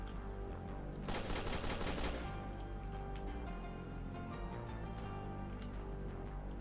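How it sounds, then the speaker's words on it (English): Gunfire from an AI-controlled enemy in a Unity game demo, a dense burst of rapid shots lasting about a second, followed by a steady game soundscape with no talking. "And he heard his mate shoot him, so he came to see what is he shooting about."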